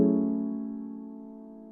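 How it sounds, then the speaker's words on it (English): A starter chord, built in a music production program for a smooth R&B sample, sounds alone as one sustained, clean, tonal block that slowly fades. "So we have the starter chord that sounds like this by itself."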